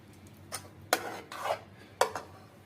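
Puffed rice is tipped into hot jaggery syrup and stirred in a pot over a low flame. Several distinct scraping, rustling strokes come close and fairly loud against quiet background.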